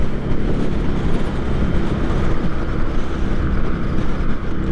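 A 2023 Indian Scout motorcycle pulls hard in fourth gear at high revs, its engine a loud, steady, close rumble that holds without a break and with no talking over it.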